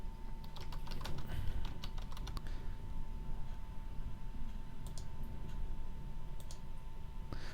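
Quick bursts of clicking keys on a computer keyboard as a basic password is typed, soft and close, with a steady room hum underneath and a few scattered clicks later on.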